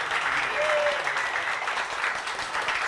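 Audience applause at a startup demo day event: a dense wash of many hands clapping steadily, fairly distant and even throughout, with a brief cheer or voice rising over it early on.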